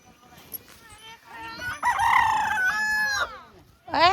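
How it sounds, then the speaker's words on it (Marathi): A rooster crows loudly nearby in one long, drawn-out call, with a second crow starting at the end. "कोंबडा बाग द्यायला भाऊ कोंबडा बाग द्यायला"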